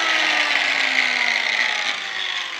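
Angle grinder working wood in a carpentry shop, a loud, close, continuous high whine with a slowly falling pitch and a gritty abrasive rasp.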